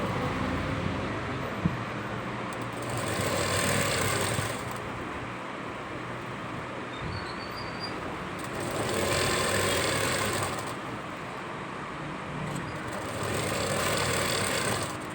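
A sewing machine stitches the open side seam of a top, its steady mechanical hum swelling and easing in long runs of motor whir with brief quieter pauses between, close and continuous with no talking.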